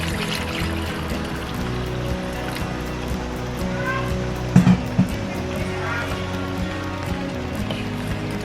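About one and a half cups of warm water poured into a pot of cooking oxtail, a steady trickling pour over a low kitchen hum with a brief louder knock partway through.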